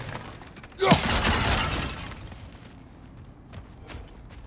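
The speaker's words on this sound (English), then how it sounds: "back to smashing through things for fun and profit" Objects smashed in God of War Ragnarök: one loud crashing shatter of breaking material bursts up suddenly, then crumbling debris and rattling fragments trail off over a couple of seconds, followed by a few faint footsteps.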